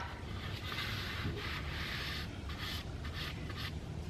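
Paint is rubbed onto wooden spindles with a sock-covered hand, a close, continuous soft scuffing and rubbing with a few brighter swishes as the cloth moves.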